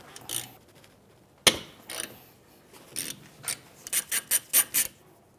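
Wrench working the two 12mm rear brake caliper bolts on a 2011-2017 Honda Odyssey: a sharp metallic crack, then a run of quick ratcheting rasps that grow into a rhythmic series of bursts, close and fairly quiet, with no talk.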